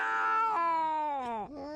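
A cat yowls in one long, loud, close caterwauling meow with a pitch that bends and slides, then breaks into a short second cry, all on its own.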